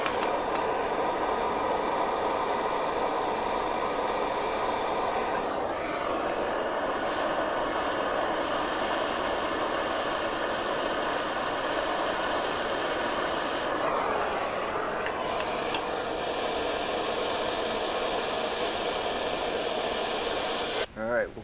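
A torch roars steadily as it heats a stuck part during a Hitachi EC79 air compressor rebuild, a loud, close, continuous hissing rush that barely wavers for over twenty seconds.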